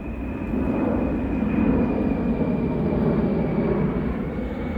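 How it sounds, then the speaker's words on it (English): A low-flying airplane passes overhead as a steady, broad engine roar with a faint high whine. The drone is continuous, fairly distant yet full, with no talking. "that's a really low flying plane"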